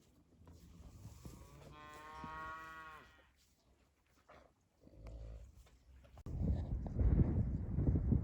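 Calves moo loudly in a farm setting near a stress tub, with several drawn-out harmonic calls in the first half followed by a shorter one, then a burst of broadband noise at the end.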